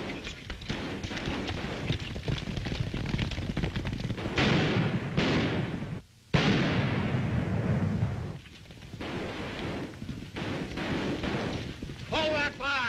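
Gunfire rings out in a 1939 black-and-white western, a dense, continuous barrage of shots and booming blasts with a brief break, heard together with shouting and talking voices in old film sound.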